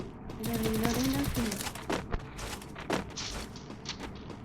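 Rapid bursts of video game gunfire crackle over a busy, noisy background, with a couple of sharper shots standing out near the middle.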